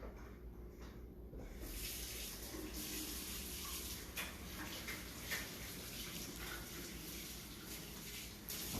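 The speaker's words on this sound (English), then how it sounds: "I'm going to wash my hands." Water running steadily from a tap as hands are washed in a home kitchen, a quiet continuous splashing hiss that starts after a short pause, with faint voices in the background.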